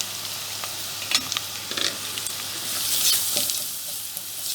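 Washed lentils tipped into a hot pot for soup sizzle steadily, with a scatter of light rattling grains and scraping stirs up close, the sizzle swelling briefly toward the end.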